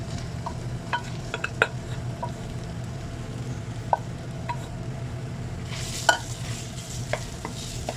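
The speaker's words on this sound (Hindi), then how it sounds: "अभी हम इसमें जो है कीमा ऐड करेंगे। कीमे को रोस्ट करना है।" Minced meat roasts in hot mustard oil in a pan for aloo keema, giving a steady close sizzle with intermittent spoon scrapes and stirring clicks against the pot throughout, and no speech.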